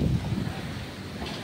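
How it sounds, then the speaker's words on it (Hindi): Strong wind gusts buffeting the microphone with a heavy low rumble, loudest at the start and then steady throughout, with no voices. "कितना तेज हवा चल।"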